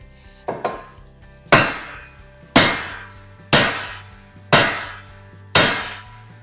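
A hammer strikes a car suspension part on a Honda Pilot or Acura MDX to loosen it, with two quick lighter taps and then five hard, ringing metallic blows spaced about a second apart, close and loud.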